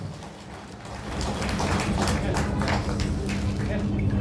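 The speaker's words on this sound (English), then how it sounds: "Ladies and gentlemen, let's give a big round of applause." A political gathering's audience applauds the National People's Party State President, the clapping swelling after a quieter start into a steady, moderately loud round beneath crowd murmur.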